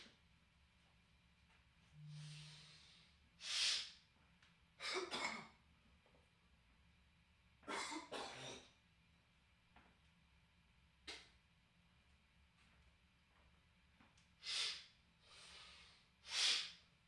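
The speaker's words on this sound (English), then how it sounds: "I gotta blow my nose." A man blows his nose several times in noisy, breathy bursts of varying length, close to the microphone and spread across a quiet stretch with a faint low hum.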